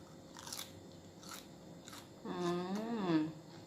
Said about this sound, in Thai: ผักกรอบ